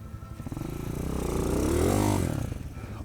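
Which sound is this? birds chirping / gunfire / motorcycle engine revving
motorcycle engine revving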